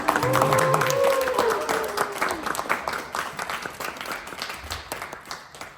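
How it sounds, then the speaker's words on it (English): A live audience at a brain-computer interface drone race challenge gives a team a round of applause, loud clapping at first that thins into scattered claps, with a voice talking over the start. "a round of applause for this"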